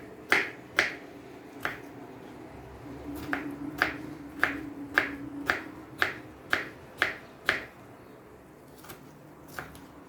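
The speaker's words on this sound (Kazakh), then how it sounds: "Осылай турап аламыз қиярды." A knife chops cucumber on a cutting board: about a dozen sharp, fairly quiet taps in a loose rhythm, with no talking.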